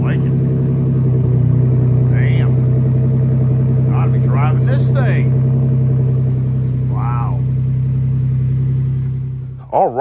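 A Ford Mustang Mach 1 fitted with a new exhaust idles nearby in a deep, steady drone, while a few short voices break in briefly over the continuous engine note before it cuts off at the end.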